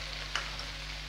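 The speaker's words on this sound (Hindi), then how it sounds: "अब मैं इसमें ऐड करूंगी कटा हुआ प्याज" Chopped onion tossed into a hot frying pan while okra cooks, giving a steady close sizzle with a brief louder crackle as the onion lands, no talking.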